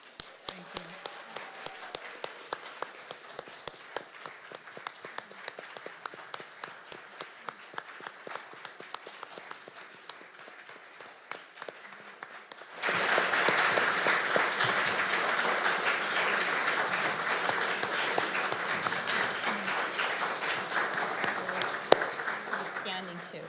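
Audience at a Commission on Judicial Appointments hearing breaks into loud, sustained applause after a judge's appointment to the Court of Appeal is confirmed, following a stretch of quieter scattered clapping.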